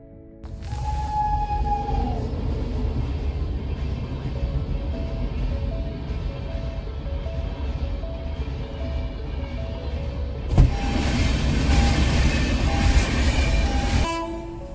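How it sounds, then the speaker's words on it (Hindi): A train pulls into an Indian railway station with a loud, steady rumble of cars, a long horn blast near the start and a harsh squeal and clatter toward the end. "अभी हुआ है टाइम यहाँ पे ट्रेन आने का, तो यस 1 या 2 ट्रेन का टाइम है।"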